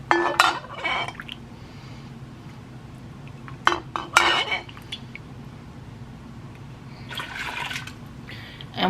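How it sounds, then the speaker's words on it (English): Dry pectin stirred into strained corn cob liquid in a pot for jelly, with a few close clanks and scrapes of a utensil against the pot and brief splashy liquid sounds between quieter gaps. "And put 1 package of dry pectin in and stir it in."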